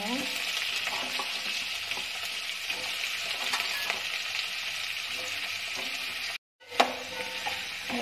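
Chopped tomatoes and green chilies sautéing in a pan for aviyal, a steady, close sizzle with light stirring, a brief gap, then a clatter as frying resumes.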